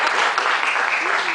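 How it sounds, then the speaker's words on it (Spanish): Lecture audience at an architecture conference in Bogotá applauds a participant named Aaron, a brief, even wash of clapping with a voice faintly audible underneath. "Otro aplauso para Aaron, por favor."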